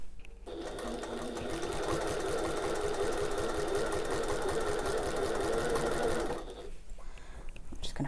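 A sewing machine stitches a tote bag in one continuous, fast mechanical whir lasting several seconds, then stops, with quiet room sound before and after.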